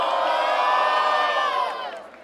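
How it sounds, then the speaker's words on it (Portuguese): A crowd cheers and shouts loudly at a Brazilian rap battle semifinal, a dense roar of voices and whoops that holds strong, then fades over the last half second. "barulho para as rimas de Breno."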